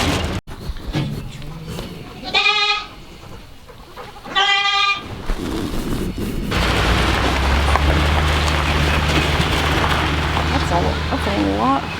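A billy goat bleats twice outdoors with a drawn-out, wavering cry, close and loud. A steady, heavy rumbling noise then takes over and runs to the end.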